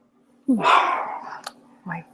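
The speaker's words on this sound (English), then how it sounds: "Your dog is excited. Your little chihuahuas." Small chihuahuas barking excitedly at close range, a sharp yappy bark with a rough tail followed by a shorter yelp, heard during a remote conversation.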